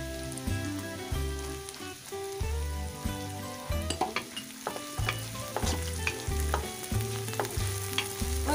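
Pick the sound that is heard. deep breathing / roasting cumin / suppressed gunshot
roasting cumin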